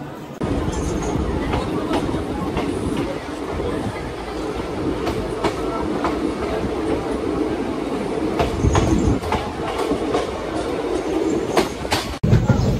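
A passenger train pulls out of Bolpur station with a continuous rumble and rhythmic clickety-clack of wheels on rails, plus faint wheel squeals and a brief louder burst near the end, heard from on board.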